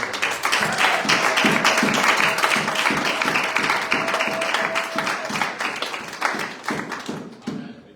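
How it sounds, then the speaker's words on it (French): A church congregation claps in steady rhythm at a Sunday worship service, close and lively, with a faint sustained tone running beneath the clapping for most of the stretch. "Acclamons pour le Lord"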